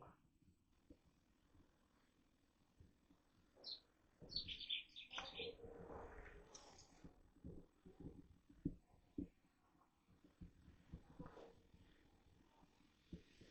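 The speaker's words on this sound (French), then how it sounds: "Est-ce que vous communiquez avec l'oiseau qu'on entend depuis tout à l'heure?" Faint high chirping bird calls in a short burst, over quiet low thumps and indistinct background noise.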